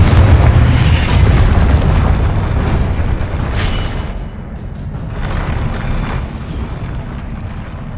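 A Confringo fire spell explodes in the video game Hogwarts Legacy, giving a loud, sustained booming blast with heavy low rumble that slowly fades, followed by lingering crackling debris.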